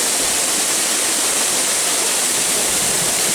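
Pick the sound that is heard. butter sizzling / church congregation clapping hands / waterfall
waterfall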